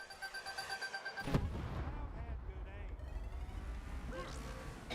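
Tracking rockets launch and blow up in the Cars 3: Driven to Win racing game, a sudden loud blast cutting in over chiming game tones, followed by a sustained roar of engines and debris with a later whooshing sweep.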